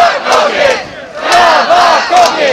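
A street protest crowd for women's rights in Tarnowskie Góry cheers and chants in loud, rising bursts after a call for applause, the collective shouting swelling and fading in waves.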